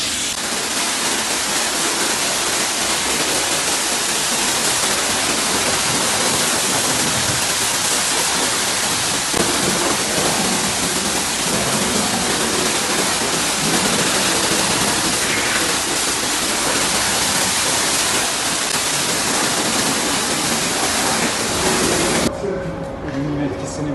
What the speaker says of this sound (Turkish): Şimdi hızlıca aracı durulayacak.